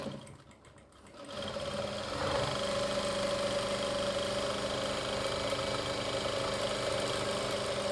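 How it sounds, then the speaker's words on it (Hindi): Electric sewing machine running steadily while stitching an Islamic cap, a continuous close whirring hum that starts after a quiet first two seconds and holds to the end. "चलिए चलते हैं मशीन पर। ये देखिए इसको इस तरीके से ये सिलाई लगाएंगे हम पहली।"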